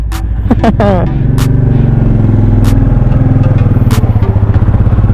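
A Royal Enfield Meteor 350 single-cylinder motorcycle engine idles with a steady, thumping rhythmic pulse close by, while a person talks over it early on and sharp clicks punctuate the running.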